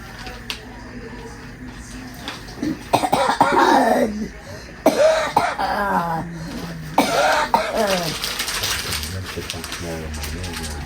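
Several harsh coughs break out among nearby voices talking, with throat-clearing sounds in between.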